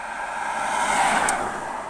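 Car passing on a road beside a roadside camp near a forest outside Paris, a broad whooshing hiss that swells toward the middle and fades slightly, fairly close and without talk.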